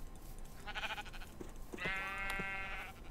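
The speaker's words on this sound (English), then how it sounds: "Finally, some fucking sheep!" Sheep bleating in FTB, a Minecraft modpack: a short game bleat followed by a louder, longer wavering bleat, close and clear.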